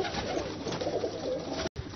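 Pigeons kept by a fancier in Lahore cooing together at close range, with a steady overlapping murmur of soft throaty coos and a brief dropout near the end.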